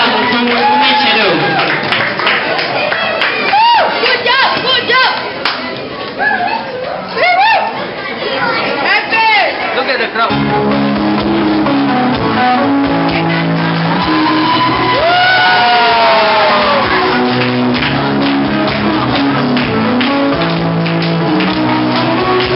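A crowd shouts, whoops and chatters excitedly around a dance performance, loud and close, with voices calling out over the noise and music coming in partway through.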